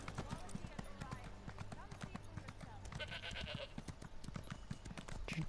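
A horse in the video game Elder Scrolls Online trots with steady, rapid clip-clopping hooves on the ground, close by, over game ambience and music.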